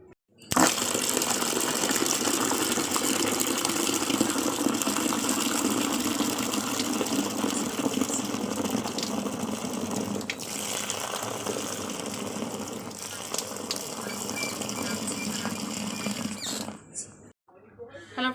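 Clothes, bedsheets and a quilt being hand-washed together in buckets, with steady splashing and sloshing water close by for most of the stretch, stopping near the end; a voice talks briefly over the washing.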